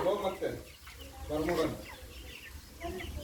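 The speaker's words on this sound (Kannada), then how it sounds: "ಸೊ ಕೆಲವು ಕೋಳಿಗಳು ಕೂಡ ಇದಾವೆ" Hens clucking and chattering nearby, with short irregular bursts of calls over a low background rumble.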